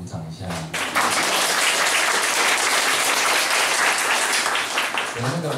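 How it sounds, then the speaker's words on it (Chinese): Audience applause from a lecture crowd, loud and sustained for about five seconds after a brief moment of talk, with a voice surfacing again near the end. "大家怎么没有鼓掌一下？"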